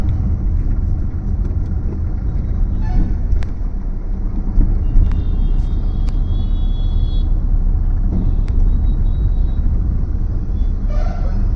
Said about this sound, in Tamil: செகண்ட் கியருக்கு ஏற்ற ஸ்பீட் ரீச் பண்ணியாச்சு. தேர்ட் கியர் மாற்றணும்.